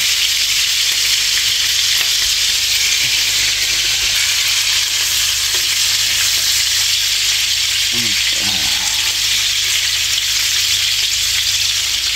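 A hotdog substitute fries in a pan with a steady, dense sizzle that holds close and constant throughout, broken by a brief scrape or stir near the end.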